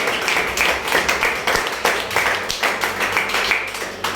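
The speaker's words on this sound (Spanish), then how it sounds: "Denle un aplauso a nuestro Padre." A church congregation claps together in quick, uneven bursts, a moderately loud ripple of hands that keeps going for several seconds.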